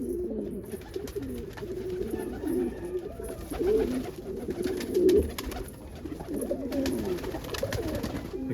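Pigeons coo steadily inside a loft, a low burbling chorus of several birds with overlapping calls, moderately close and continuous, with no voices over it.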